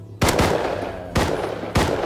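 Gunfire in the survival game Rust: three loud, close shots spaced about a second apart, each a sharp crack with a ringing tail.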